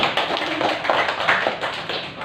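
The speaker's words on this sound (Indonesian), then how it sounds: "Kita beri tepuk tangan." Students in an Islamic ethics (Aqidah Akhlak) class clap their hands for a presenting group, a sparse, uneven run of distinct, fairly close claps with no voices.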